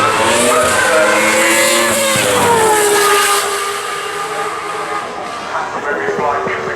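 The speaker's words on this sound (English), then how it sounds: "This is the 1997 Ferrari. It's being driven by Robbie Kerr." A 1997 Ferrari Formula One car driven by Robbie Kerr at the Goodwood Festival of Speed screams loudly past, its high engine note sliding down in pitch as it moves away.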